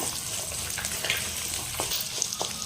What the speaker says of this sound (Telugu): కొద్దిగా ఎల్లుల్లిపాయలు ఇవన్నీ వేసి ఇలా వేయించుకోవాలి కొంచెం ఎగేది వరకు